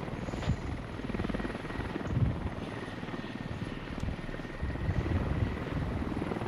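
A helicopter flies in the video game Squad with a steady, loud rotor thump and engine drone that holds throughout and has no talk over it.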